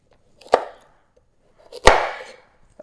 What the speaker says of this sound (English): So I'm just going to chop off the root side and then chop off the other side as well.